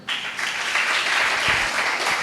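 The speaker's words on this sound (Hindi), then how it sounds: "वाह, क्या तालियां बजी है" Loud audience applause from a congregation, a dense wash of clapping that starts abruptly and holds steady throughout, no talking over it.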